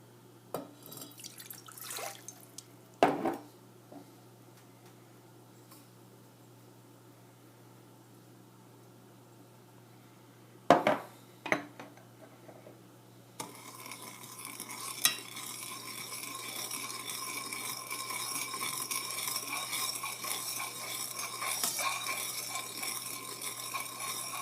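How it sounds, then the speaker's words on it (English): Sugar being stirred into water in a container, starting with a few scattered clinks and taps, then giving way to a steady, close swishing and rushing wash of liquid that continues to the end, with no talking. "now I'm going to add the sugar into water and mix them well"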